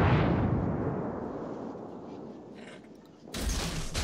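Secondary ship guns on a World of Warships vessel, a loud booming salvo that fades into a rumbling tail, followed by another sharp burst of fire near the end.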